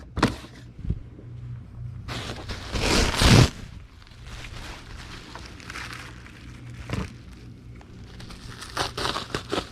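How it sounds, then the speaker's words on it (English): A sheet of bubble wrap handled and cut in half while packing eBay parcels, close crinkling and rustling with a louder crackling burst partway through and a few sharp rustles after, with no talking. "we will need to get a sheet of bubble wrap and cut it in half"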